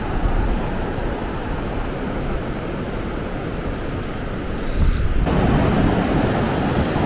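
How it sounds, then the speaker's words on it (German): Ocean waves surging and breaking on the beach at Maspalomas, Gran Canaria, a steady broadband roar with wind noise that swells louder in the final two seconds as a set rolls in. "wir hatten gerade hier eine Abfolge von schönen Wellen"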